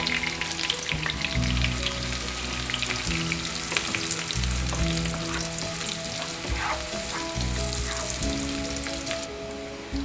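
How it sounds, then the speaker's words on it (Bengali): Chopped onion frying steadily in a pan for a Bengali shrimp and courgette dish, a continuous close sizzle with no one speaking, while a low musical backing plays throughout. "অনিয়নটাকে ভাজতে হবে ভালো মতো"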